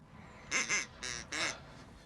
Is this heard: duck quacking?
yes